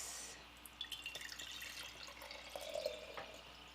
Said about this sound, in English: I'm going to pour this into a glass.